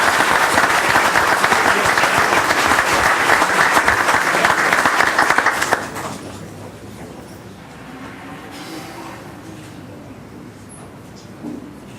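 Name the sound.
applause at council meeting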